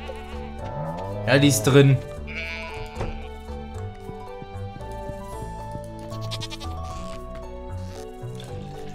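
A goat in the farming video game Stardew Valley lets out a short, loud bleat, followed by soft game chimes and effects while someone speaks German over them.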